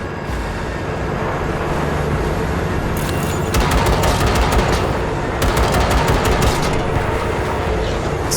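Rapid automatic gunfire in Cyberpunk 2077, aimed at a train coupler, comes in two long sustained bursts over a loud, constant rumble of a moving train.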